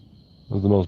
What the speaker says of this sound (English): That was the most bell-sounding cricket I've ever heard.